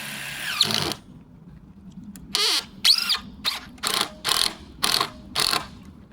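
A power drill drives screws into wooden shelf boards in a series of short whirring bursts, about seven in a row with pauses between, close and clear with little else around.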